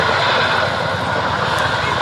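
Chinook helicopter in a role demonstration display at the Duxford summer airshow, heard as a steady, loud rotor and engine roar that fills the whole stretch with no letup.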